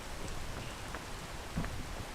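Steady rain falls in the video game PEAK, a continuous hiss of drops at moderate level with a few faint, brief knocks on top.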